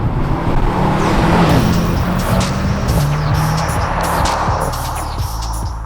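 A Mercedes-AMG C63 accelerates hard through its gears, a loud, close engine note climbing steadily with brief dips at each upshift over a continuous road roar.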